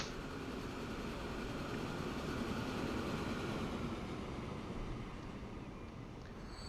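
A freight train in the video game Transport Fever 2 rolls along with a steady, dense rumble and hiss, a continuous even drone that fades slightly toward the end, with no talking.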